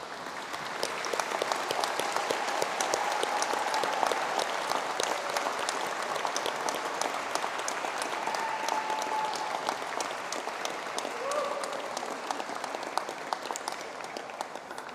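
Graduates at a university graduation ceremony in Sydney give a sustained round of applause, an even, dense wash of many hands clapping that holds steady for the whole stretch.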